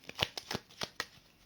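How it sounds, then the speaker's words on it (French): Playing cards riffle and flick in a quick series of soft papery snaps, faint and close, about half a dozen bursts in under two seconds. "Est-ce que ça te dit que je te tire une petite carte?"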